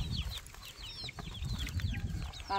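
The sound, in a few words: chicks being released on a farm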